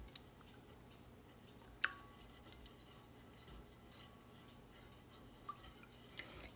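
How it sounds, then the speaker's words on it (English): Spoon stirring water in a bowl or cup to dissolve honey, with soft scraping and light clinks, one sharper tap near the start, fairly quiet and steady throughout, no talking. "Give that a little bit of a stir to dissolve the honey"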